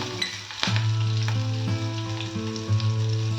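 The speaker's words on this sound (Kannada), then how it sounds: "ಈಗ ಸಣ್ಣಗೆ ಹೆಚ್ಚಿರೋ ಹಸಿಮೆಣಸಿನ್ಕಾಯನ್ನ ಹಾಕ್ತಾ ಇದ್ದೀನಿ" Finely chopped green chillies dropped into hot oil already holding mustard seeds and turmeric, a loud close sizzle that flares up at once and keeps crackling steadily, with no voices.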